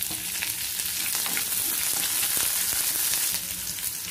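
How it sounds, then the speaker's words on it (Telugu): Onions and curry leaves added to a mustard and dal tempering fry loudly in hot oil, a dense continuous sizzle with spatula stirring scrapes running throughout. "పోపు వేగాక ఈ ఉల్లిపాయలు కరివేపాకు కూడా వేసేస్తున్నాము"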